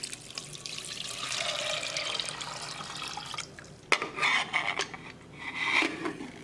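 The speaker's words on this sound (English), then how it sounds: "Add salt and 4 cup water." Water is poured into a pressure cooker holding black-eyed peas and salt, a continuous splashing pour that breaks off midway, followed by a few clinks and shorter splashes nearby.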